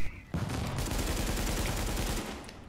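Sustained automatic fire from an APC in a video game, a sudden loud burst of rapid rattling shots that carries on for about two seconds before cutting off, near and harsh with no talk over it.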